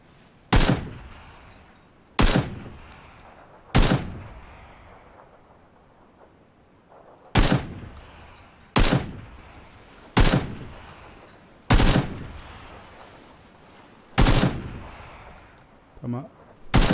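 Single AK rifle shots in PUBG, fired from a distance in a sniping style, nine loud sharp cracks spaced one to two seconds apart, each trailing into a short echo.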